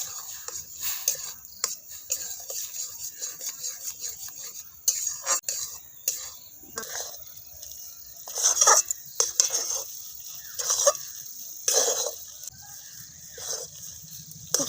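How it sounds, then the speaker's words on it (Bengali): Semolina is stirred into hot water in a pan while making dough for steamed rice-flour-free pitha, giving irregular scraping, clinking and knocking of a utensil against the metal, sometimes in quick bursts, sometimes pausing. "দিয়ে একটু নাড়াচাড়া করে নেব।"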